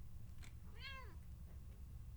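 A single cat meow from the Impostor Factory video game, a short, clear, rising-and-falling call heard alone over a low steady background hum.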